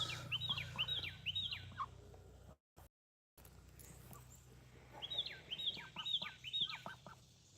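A rooster crows outdoors around noon on a July day: bursts of short, repeated fowl calls at moderate distance, with a brief dropout midway before a second run of calls.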